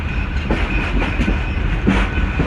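The 12 Hazara Express pulling into Khanewal Junction station in the early morning: a steady rumble of rolling railcars with clickety-clack wheel beats, loud and continuous, with no talk.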